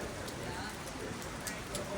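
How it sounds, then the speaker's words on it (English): Steady, soft hiss of light rain falling outdoors at the cruise port in Ketchikan, faint and even throughout. "It's raining."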